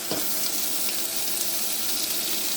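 Shrimp frying in a pan until browned in a busy home kitchen, a steady close sizzle and crackle with a faint watery hiss, alone with no talk.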